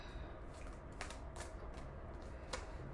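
A deck of tarot cards being shuffled by hand, soft papery riffles and scattered card snaps at low volume over steady background hiss, with no talking.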